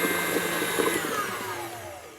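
An electric mixer whirs steadily on high through pumpkin muffin batter, a continuous motor drone with a faint slowing toward the end and no talking.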